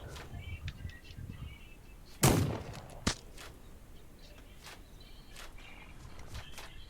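Sparse video game gunfire: one sharp loud shot, a second crack a moment later, and faint distant pops over quiet outdoor ambience.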